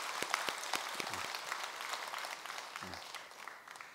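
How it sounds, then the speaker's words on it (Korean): A temple congregation at a Sunday dharma talk clapping together, a soft, even patter of hands from a distant crowd with a few faint murmurs underneath. "다 함께 박수 한번 쳤으면 좋겠습니다"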